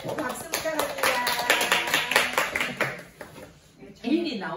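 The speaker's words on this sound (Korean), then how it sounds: "박수 부탁합니다." Audience clapping at a gathering, fairly brisk claps rising under a talking voice, fading out briefly before the speaking resumes.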